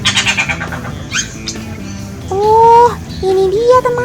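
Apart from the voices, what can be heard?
cirik-cirik kumbang (bee-eater) bird call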